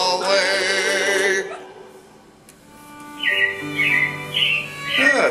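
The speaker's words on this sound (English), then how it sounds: "it looks like the robins are getting ready to celebrate Valentine's Day today" Animated robins chirp and warble in a theme-park stage show, with high bright tweets and squawks that come in short bursts over music and a singing voice.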